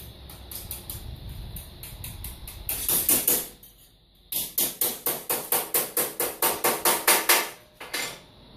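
A manual metal bender folds a metal piece with loud repeated clanking and ratcheting strikes, first a slow series, then a rapid rhythmic run of about a dozen metallic hits, close up.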